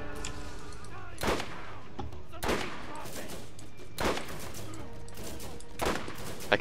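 Four sharp sniper rifle shots from the Borderlands game ring out at steady intervals of about a second and a half, each a loud broadband crack over a continuous bed of game ambience.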